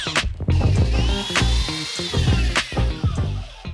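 Power drill boring a hole with a large drill bit in a prop build, whining in several short bursts with stops and restarts, close and fairly loud.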